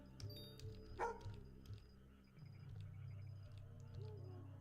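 Dog barking in the video game Petite Passage, a short single bark near the start over a steady low game background hum.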